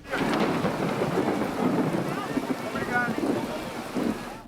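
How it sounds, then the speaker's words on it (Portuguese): A heavy midday thunderstorm over the Federal District in Brazil, with dense rain pouring steadily and thunder rumbling low underneath, loud and continuous from start to finish. "Ao meio-dia, um temporal caiu em várias regiões do DF neste domingo."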